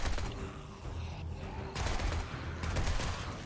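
Rapid automatic fire from an M4 rifle fitted with a 4x scope in a zombie survival video game, loud bursts of gunfire rattling continuously across the moment with brief changes in intensity.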